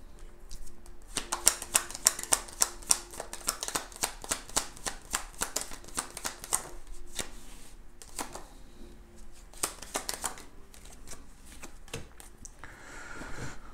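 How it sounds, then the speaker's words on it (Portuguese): Tarot cards being shuffled by hand in a steady run of quick, crisp riffling flicks and slaps, fairly close and clear with no talking over them, trailing off into a few scattered taps near the end. "Opa, deixa eu embaralhar mais."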